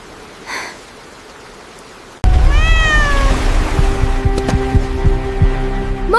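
A lost cat gives a loud, drawn-out meow with a rising and falling pitch, close and clear. It is followed by rumbling, throbbing low-frequency noise and a few sharp clicks, after a quieter stretch at the start.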